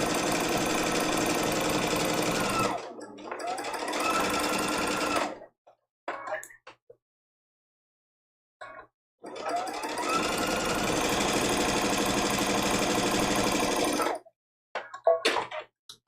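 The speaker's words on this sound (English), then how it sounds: "we've sewn a 1/4 inch seam allowance on all 4 sides" A sewing machine stitches a quarter-inch seam allowance along the sides of a fabric hanging trivet, running in two long, loud, steady bursts separated by a pause with brief handling noises and faint talk.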